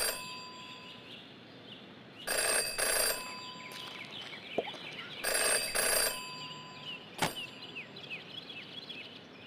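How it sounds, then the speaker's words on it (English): A telephone rings in the Jenny LeClue detective video game, with two loud bursts of ringing bells over a quiet ambient background scattered with faint chirps. "Jenny had learned never to ignore a ringing phone."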